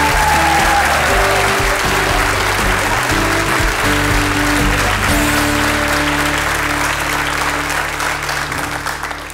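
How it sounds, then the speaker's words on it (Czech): Loud, dense applause from a theatre audience at Švandovo divadlo greeting actress Petra Špalková, sustained throughout with steady texture and a low musical tone running underneath. "Jako hezký potlesk na začátek"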